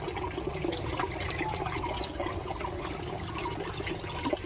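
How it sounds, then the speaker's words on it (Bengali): Water poured over freshly cut jackfruit outdoors at a hand-pump spot, a continuous rushing, splashing flow that stays steady and fairly close throughout, with no voices. "আমি ইঁচড়টা কেটে আমি এইভাবে করে জল দিয়ে দেবো সঙ্গে সঙ্গে"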